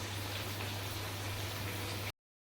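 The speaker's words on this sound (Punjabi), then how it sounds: "ਹੁਣ ਆਲੂ ਫਰਾਈ ਹੋ ਰਹੇ ਨੇਗੇ" Potatoes frying in a pan give a dense, close crackling sizzle over a low steady hum, lasting about two seconds before stopping abruptly.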